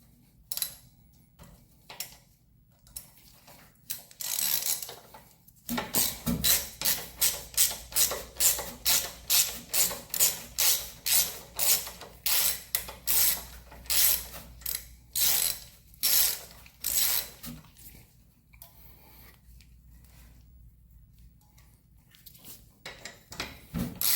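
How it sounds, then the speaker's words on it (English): A ratchet loosens bolts on an alternator mounted on a 1971 Chevelle's Chevy small block 350, making a long close series of regular clicking strokes that later slow and thin out, with no talking. "Now, let's take these bolts off and see what happens."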